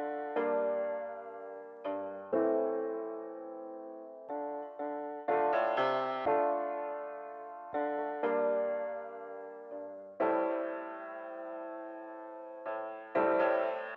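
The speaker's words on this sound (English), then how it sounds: "It's like a vintage piano, it sounds like this." Vintage piano sample from Splice playing a loose sequence of chords and notes, each struck and decaying, a dozen or so attacks over a slow uneven rhythm, soft and close with no voices.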